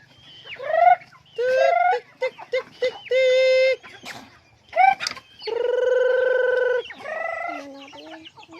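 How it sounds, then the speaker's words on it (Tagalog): Chickens cluck and squawk in a string of loud, nasal calls, some short and choppy, others drawn out, close by with no talking. "So, ingani ang manok dere sa bukid."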